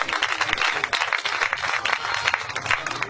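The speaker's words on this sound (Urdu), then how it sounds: "میں چاہوں گا ایلڈر صاحب کے لیے زوردار تالیاں بجائیں" A church congregation gives loud, sustained applause, a dense wash of clapping hands filling the room for several seconds.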